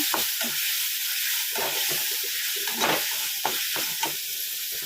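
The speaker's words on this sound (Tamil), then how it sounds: "தக்காளி சேர்த்து நல்லா வதக்கி விடுங்க." Tomatoes sautéing in a pan for an okra kara kuzhambu, a loud continuous hissing sizzle with soft stirring scrapes underneath.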